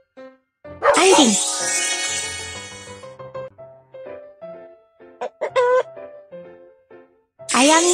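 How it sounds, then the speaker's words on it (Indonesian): A rooster crows loudly, a long drawn-out call, followed by a few clucks and a second crow starting at the end. "Ayam jantan."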